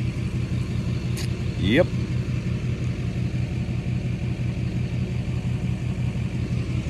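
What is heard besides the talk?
car driving down the road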